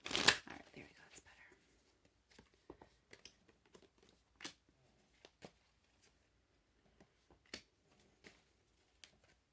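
Tarot cards get a quick riffle shuffle at the start, then soft, scattered card taps and flicks follow, quiet and close with long gaps between them.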